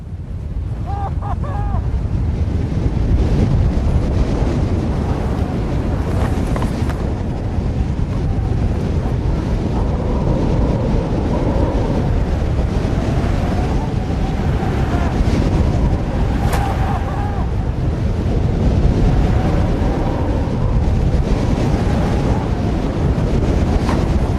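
Strong wind roars and buffets the microphone nonstop on a mountain, a heavy low rumble with gusty swells throughout and no voices.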